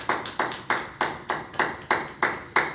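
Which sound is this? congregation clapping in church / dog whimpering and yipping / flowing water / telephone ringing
congregation clapping in church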